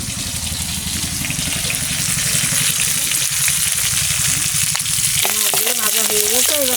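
Papaya slices frying in a pan with a loud steady sizzle throughout, joined near the end by a voice speaking over the cooking.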